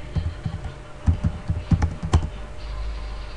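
Fingers type a command on a computer keyboard in a quick run of close, crisp keystrokes, a dozen or so clicks with a few brief pauses, then a soft hum as the typing stops.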